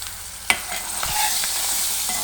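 Curry ingredients stirred while frying in oil for a karjam kudikaya curry, with salt just added; a sharp scrape of the spoon over a continuous close sizzle, and no talking.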